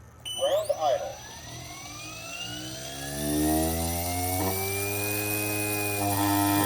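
A 16-year-old Vario MD-500E RC helicopter, newly re-motored, spins up toward ground idle around 900 RPM: a rising turbine-like whine with climbing harmonics, steady and fairly loud, with a brief voice near the start.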